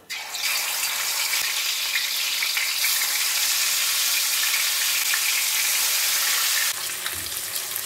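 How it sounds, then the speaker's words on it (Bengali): Fish frying in hot mustard oil in a wok, a steady loud sizzle running almost the whole time, easing slightly near the end; no talk. "কড়াইতে আরেকটু সর্ষের তেল দিচ্ছি। ও তেলটা গরম হয়ে গেছে, মাছগুলো ভেজে নেব।"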